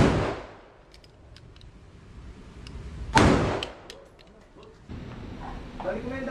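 An Armscor 1911 .45 pistol is fired at a shooting range in Naic, Cavite. Two sharp, loud reports about three seconds apart, each trailing off quickly, are set against low background noise.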